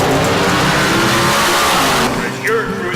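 Classic car and hot rod engines rev loudly and continuously at an outdoor car show, a dense roar that dips briefly near the end before rising again.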